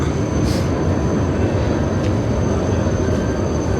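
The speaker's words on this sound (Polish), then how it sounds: "A tutaj mamy właśnie, proszę bardzo na dole tramwaj, na górze pociąg." A tram below and a train above pass at a Berlin station, giving a loud continuous rail rumble with a few brief high squeals.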